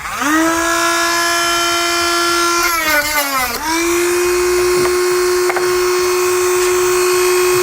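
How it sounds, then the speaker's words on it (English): A Dremel rotary tool fitted with a cutting blade trims the bottom off a shock absorber while mounting a base plate on a 2018 Ford Focus. Its steady high whine runs loud and close throughout, dipping and rising briefly as the blade bites. "We'll just use a Dremel tool with a cutting blade."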